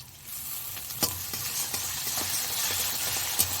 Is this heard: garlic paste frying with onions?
yes